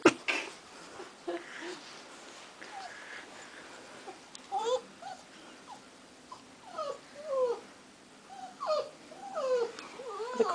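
A dog whimpers and whines at a doggy door, wanting to get out: a run of soft, high, wavering whines and yelps, fairly close and otherwise quiet, repeating in short bursts.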